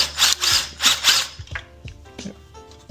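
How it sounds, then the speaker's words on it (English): A 10 mm socket wrench ratchets while loosening fuel rail bolts on the intake manifold of a 2024 Mustang GT S650, a few rapid clicking bursts up close followed by quieter scraping and rattling of metal parts. "we're gonna start unbolting the fuel rail on the manifold. So with a 10 millimeter"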